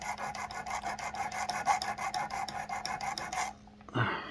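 A knife blade rasps back and forth on a Work Sharp Precision Adjust sharpener in quick, even strokes, close and steady, then stops as a person briefly speaks.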